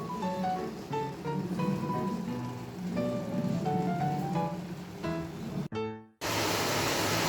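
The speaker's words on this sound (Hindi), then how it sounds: "हमारे यहाँ बारिश भी काफ़ी तेज़ी से हो रही है" Heavy rain pours down, a dense, loud hiss that fills the background beneath tonal sounds and then stands out alone for the final second.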